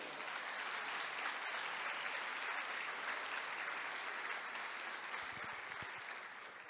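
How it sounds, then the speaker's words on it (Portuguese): A church congregation applauds throughout a worship service, a dense, steady wash of clapping that fills the whole stretch at an even level, fading slightly at the end. "Você pode aplaudir a palavra do Senhor?"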